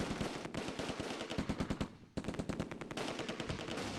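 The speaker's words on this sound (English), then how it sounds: "open up the MG42 on the BAR" MG42 machine gun firing in the war video game Close Combat II, loud rapid bursts of rattling automatic fire with a brief pause midway, then continuing.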